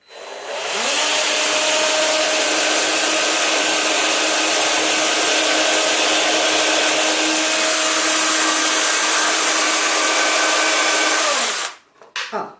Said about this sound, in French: Alors, moi j'ai une perceuse, c'est facile.